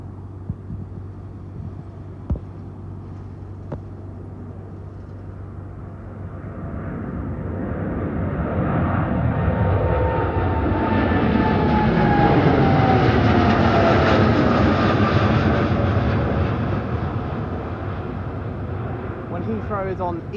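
An Etihad-bound jet airliner flying as EY18 to Abu Dhabi passes at Heathrow Airport, its roar building from a distant hum to a loud broadband rush with a sweeping whine at about thirteen seconds, then slowly fading.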